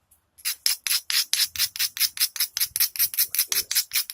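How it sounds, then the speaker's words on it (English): A stone flake is ground against a worn-down, broken grinder wheel in quick, steady back-and-forth strokes, a loud close rasping scrape repeated about twenty times with no talking. "What I want to do is I'm going to grind it really well."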